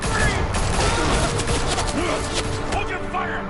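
Rapid gunfire in the Batman: The Telltale Series video game crackles as a dense, continuous fusillade with booming low end, voices shouting underneath throughout.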